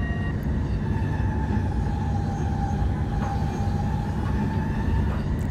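A DM90 Buffel diesel train runs steadily in Train Simulator 2017 on the way to Arnhem, giving a loud continuous engine and rail rumble with a faint whine held throughout, and no talk.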